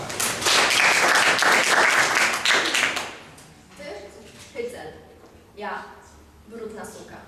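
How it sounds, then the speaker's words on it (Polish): Loud audience applause at a Polish literary festival competition in Świdnica rings out for about three seconds, then fades into scattered claps and a few voices talking. "Wielkie brawo"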